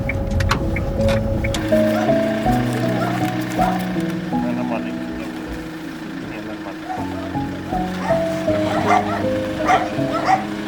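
A dog barks and yips repeatedly, with some whimpering, during an evacuation from a war-hit Ukrainian village. Voices talk over it, and a low engine-like hum runs underneath.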